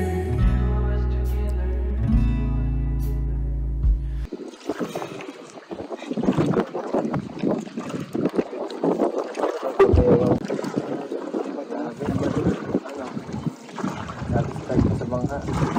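Riding in a small boat, a bangka, on open water: a steady engine-and-wind rush with splashing and buffeting fills the ride, loud and close, with occasional voices underneath, after a brief opening burst of music.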